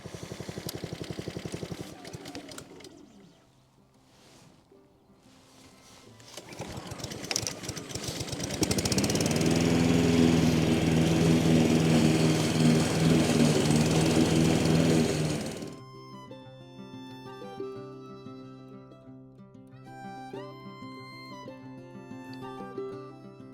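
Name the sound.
lawn mower mowing a lawn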